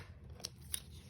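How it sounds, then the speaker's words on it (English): Two quick snips of scissors cutting 1-inch strips of cardstock paper for scrapbook cards, close and crisp over a low steady background hum, each cut short and sharp. "I'm going to cut some 1-inch strips now"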